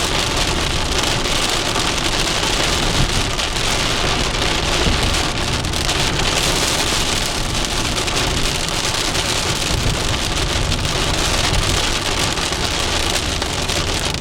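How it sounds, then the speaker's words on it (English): Rain drums steadily on a vehicle during a drive in Grand Teton National Park, a loud, dense, unbroken wash of patter and road noise with no talking. "Nah, it's not raining that hard yet."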